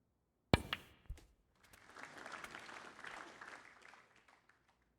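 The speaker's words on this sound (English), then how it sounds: "Subdued clapping from the audience there." Subdued audience applause in the Snooker 19 video game, a sharp click, then a soft, steady patter of clapping from a snooker crowd that swells and fades over a few seconds.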